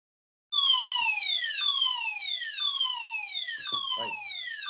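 A fire alarm sounds loudly and continuously, its electronic wail sweeping downward in repeated falling tones, with a brief clatter underneath near the end.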